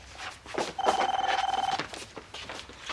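A telephone rings with an electronic trilling bell, one sustained burst of about a second indoors, with faint background movement around it and no speech.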